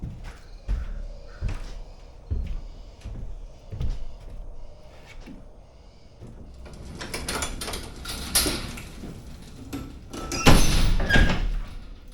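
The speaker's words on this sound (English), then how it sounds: "the first thing you're going to want to do is close your door" An enclosed trailer's ramp door is swung shut, with a series of knocks and clunks giving way to louder metallic rattling and a heavy bang near the end.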